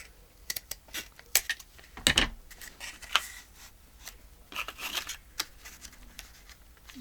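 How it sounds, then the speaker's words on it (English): Paper being cut into a miter for a handmade pocket, scissors snipping in short irregular bursts with small rustles and a few sharper clips, close and fairly quiet, no talking. "Let's cut the miter a little bit deeper."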